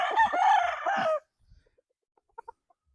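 A nine-month-old Gary Gilliam Roundhead gamefowl rooster crows once, a loud and close call of about a second. A few faint, short clucks follow.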